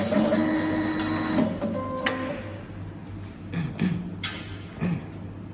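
Wire cutting and stripping machine processing cable, a steady mechanical whir with clicks and faint tonal hums, close and continuous, with no talk over it.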